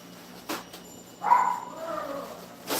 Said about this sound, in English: Sorry that my dog is barking.